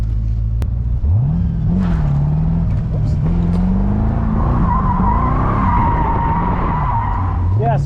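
A twin turbo Callaway Corvette drifting, its engine revving up and down with tires squealing through a long slide, close and loud, with people talking over it.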